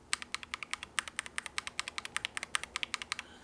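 Lubed AKKO Radiant Red keyboard switches typed in a quick, steady run of around twenty-five close, crisp keystrokes over a few seconds, evenly paced with no talking.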